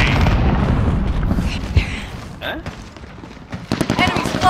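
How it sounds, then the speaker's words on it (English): A grenade blast booms amid rattling gunfire during a Modern Warfare 2019 Domination match on the Piccadilly map, with game voice callouts over the chaotic, dense battle noise. "Throwing grenade!"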